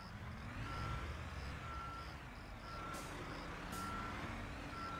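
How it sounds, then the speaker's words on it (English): A truck's reversing beeper chirps in the Construction Simulator 2022 video game, a steady, evenly spaced series of faint electronic beeps over a low engine rumble, with two brief bursts of hiss from air brakes. "I got this backup beeper"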